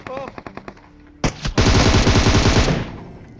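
Gunfire in the PUBG Mobile video game: a few scattered single shots, then a sharp burst and a dense automatic volley of rapid, loud shots that fades out, with a voice faintly underneath.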